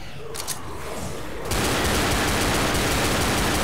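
Gunfire in the zombie shooter Left 4 Dead inside a hospital, quiet scattered pops suddenly giving way to a loud, unbroken roar of rapid shots that fills the rest of the moment.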